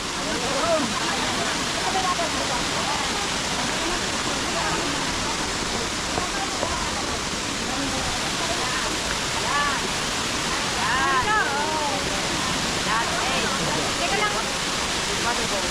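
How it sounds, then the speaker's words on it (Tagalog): A waterfall on a trip in China gives a constant loud rushing roar of falling water throughout, with a few faint voices briefly audible over it. "Para kita waterfall."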